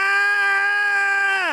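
A human voice imitates a hungry cat screaming for food, giving one loud, sustained, nasal "ah" cry held for over a second before dropping off at the end, up close and alone.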